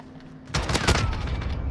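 Gunshots in the Call of Duty Modern Warfare video game, a sudden rapid burst of fire after a quiet start, fairly faint and continuing to the end.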